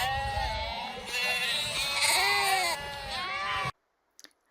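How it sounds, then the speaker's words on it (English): Rams, ewes and lambs bleat in a crowded croft enclosure ahead of shearing, many overlapping calls rising and falling close by for several seconds before stopping abruptly. "We've got rams, yows and lambs as well, and we'll make a start on shearing them."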